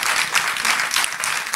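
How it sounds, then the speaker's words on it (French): Audience applause at a public health event on blood donation: a steady, dense patter of many hands clapping together, fairly loud and continuous, with no voices standing out. "Merci pour les applaudissements."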